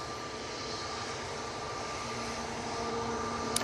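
A Pilatus PC-12 turboprop on final approach at Manchester Airport makes a steady, distant engine drone with a faint tonal whine, slowly building in loudness.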